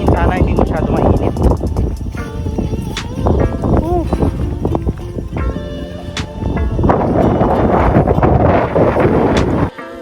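Strong wind buffets the microphone on the descent from the Mount Balingkilat summit, a loud continuous roar with a voice talking over it in places.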